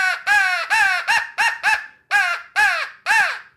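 Woodhaven Custom Calls Ninja Crow mouth call blown to imitate a crow: eight loud, close, raspy caws in an uneven rhythm, the first few longer and the middle ones short and clipped.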